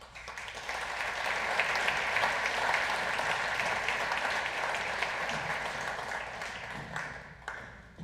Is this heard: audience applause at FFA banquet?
yes